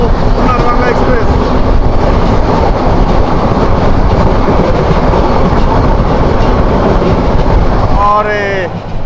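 Sonar Bangla Express, a non-stop meter-gauge train in Bangladesh, thunders past at speed, a loud continuous roar and rattle of wheels with clickety-clack, and a horn-like tonal wail rising near the start and end.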